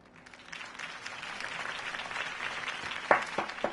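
Crowd applause after a campaign speech in Batman: The Telltale Series builds steadily into a broad, sustained wash of clapping, with a few sharper claps standing out near the end.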